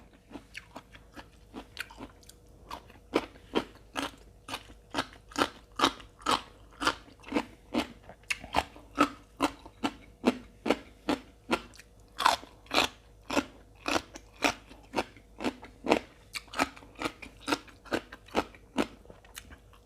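Crunchy, close-up chewing of a spicy pounded Chinese celery salad with squid tentacles: a steady run of sharp, loud crisp bites repeating about once or twice a second, with no talking.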